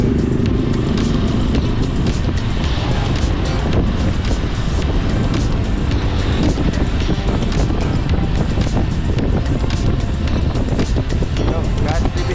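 Busy road traffic at around nine in the morning, heard while cycling: a loud, continuous rumble of engines and motorbikes mixed with heavy wind buffeting the microphone, steady throughout with no clear pauses.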